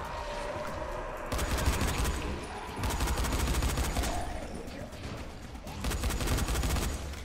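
Rapid crackling bursts of popping explosions in several loud waves, dense and continuous like strings of firecrackers going off in the game Dying Light.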